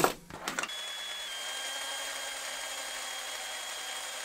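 A small drill bores holes into the metal body of a 1:32 scale diecast Monte Carlo model. A few short knocks come first, then a steady, close, high-pitched whine that runs to the end.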